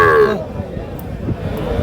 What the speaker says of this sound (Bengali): ওর মায়ের জন্য কিন্তু চিল্লাচ্ছে দেখছেন